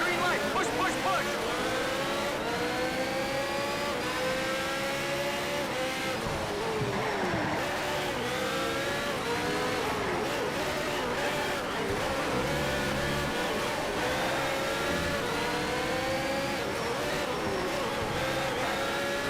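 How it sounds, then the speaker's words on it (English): Racing car engines from Need for Speed Shift 2 at the start of a race, with many cars close together. Aggressive overlapping engines rise and fall through gear changes, with occasional tire squeals, continuously under a talking voice. "At the beginning, where everyone is close together because of the start, the sound of the engines is so aggressive"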